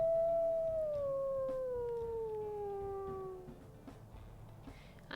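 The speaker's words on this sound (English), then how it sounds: "Let's listen to her howls." A single long wolf howl from a female wolf in the video game WolfQuest, loud and close, sliding slowly downward in pitch before trailing off into quieter background sound.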